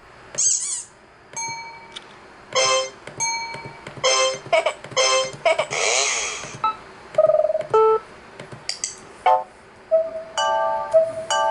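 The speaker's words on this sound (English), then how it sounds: "play around with all the old classic Mac OS sound effects" A run of classic Mac OS alert sounds from an Apple iBook G3 plays one after another: beeps, chimes, clangs and short melodic tones, some with hissy bursts, crisp and close.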